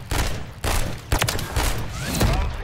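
Gunfire in a video game, repeated bursts and booming shots that come and go across the clip, loud and close, with no talking over them.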